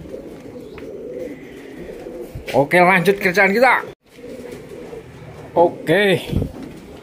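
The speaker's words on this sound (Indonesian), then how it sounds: "Ini burung-burung saya kok" Pet pigeons coo near a pigeon coop under construction, two bursts of throaty rolling coos, close and clear, while someone speaks briefly over a low background hum.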